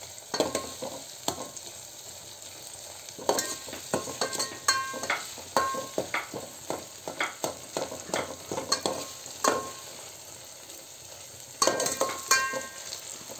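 Onion and tomato fry soft in a pan for a spicy Maharashtrian curry, a steady close sizzle broken by irregular spoon scrapes and stirring strokes, with no talking.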